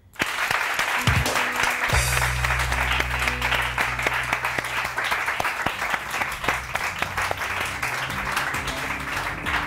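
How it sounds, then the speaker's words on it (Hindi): An audience applauds at an event, with dense clapping starting suddenly and continuing loud and sustained. "आप लोग मुआविया के लिए तालियां बजा दें।"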